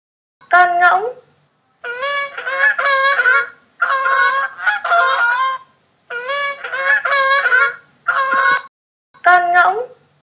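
A goose honks loudly and close up, repeating harsh, nasal calls in several clustered bursts separated by short pauses.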